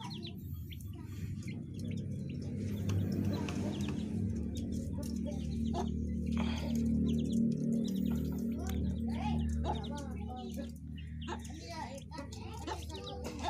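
Green junglefowl make clucks and short calls among chirping birds, steady and fairly close, under someone talking nearly the whole time.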